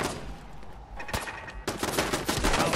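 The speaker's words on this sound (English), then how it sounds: "Oh, he's still shooting" Gunfire in the video game Fallout 4: rapid bursts of shots, sparse and softer at first, then a dense, loud stretch of repeated cracks filling the second half, with no talk.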